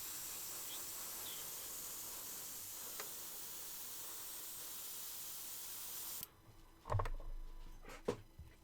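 Airbrush spraying paint through stencils, a steady loud hiss lasting about six seconds that then cuts off, followed by a few handling knocks and clatters.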